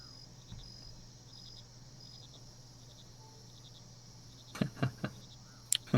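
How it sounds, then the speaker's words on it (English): Swamp crickets chirp in a steady high trill, with scattered sharp bird-like chirps and clicks breaking in near the end. No voices are heard. "The crickets and chirps of the swamp return."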